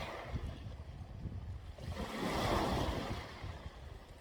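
Sea waves and a gusty wind on the seashore come through as a soft, far-off rush of surf. A breezy swell builds in the middle of the clip, and nobody speaks.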